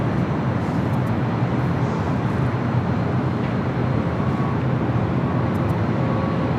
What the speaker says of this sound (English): United 757-200.